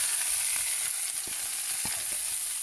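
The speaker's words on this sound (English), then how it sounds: "now to this I am going to add the 3 boiled and cubed potatoes to this" Boiled, cubed potatoes tipped into a hot tempering of oil and sesame seeds give a steady close sizzle with a few soft clinks and stirring sounds, alone without talk.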